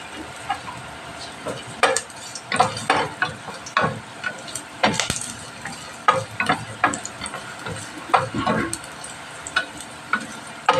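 Ginger fries in a little hot oil in a pan, a soft sizzle broken by repeated scraping and clacking strokes of a utensil stirring it, close and uneven, with no talking.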